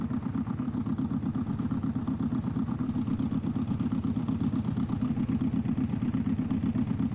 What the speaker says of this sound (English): God, that car sounds so good.